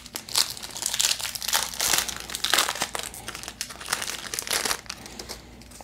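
A Pokémon card booster pack from the Shining Fates set is torn open, its foil wrapper crinkling and crackling steadily and close up for several seconds, with no talking.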